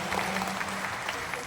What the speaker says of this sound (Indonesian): tepuk tangan untuk pastor kita